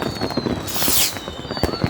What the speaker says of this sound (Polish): Są eksplozje.